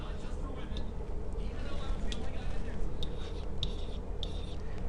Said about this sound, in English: Oops, I put that in the wrong place. So I'm going to erase that.